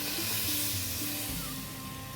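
Frying pork fat in a pot sizzles loudly as plain water is poured in, a dense crackling hiss that eases slightly toward the end, with no talk.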